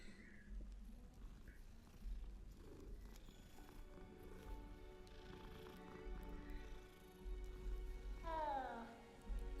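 A cat in the Hogwarts Legacy video game purrs steadily while being petted, a soft continuous rumble with a brief meow-like rising tone near the end, heard over game ambience and music.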